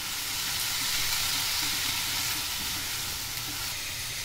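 Onion and tomato masala for a taro curry frying in a pan, giving a loud, steady, close sizzle with a dense hiss that runs unbroken throughout, no speech.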